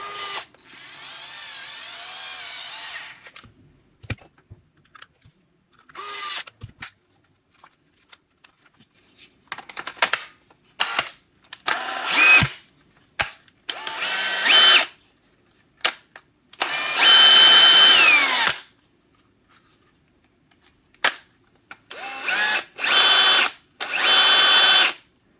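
A DeWalt DCD996 hammer drill drives screws in a string of short, loud bursts separated by pauses, each whirring run lasting a second or two, with no talking.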